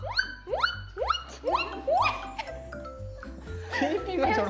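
A voice imitates a guinea pig with a rapid series of high, rising squeaks, then giggly chirps as other people laugh and murmur in the background.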